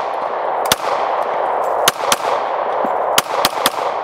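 Sharp, loud gunshots from a .40 S&W pistol crack out in an uneven sequence, about seven distinct reports over steady background hiss, with no talking.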